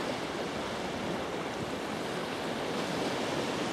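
Surf washes steadily onto the beach at Carnoustie, a dense, continuous roar of breaking waves mixed with wind noise, with no voices.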